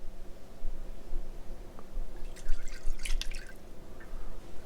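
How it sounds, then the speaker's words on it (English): Milk poured into a Dutch oven over melted butter, heard as a brief cluster of soft dripping, splashing liquid sounds in the middle, set against a quiet low hum. "We're going to put in our milk"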